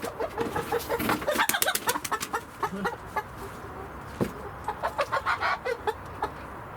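Newly arrived chickens cluck and squawk in agitated bursts, close and lively, with flurries of sharp calls and some rustling, scattered irregularly throughout.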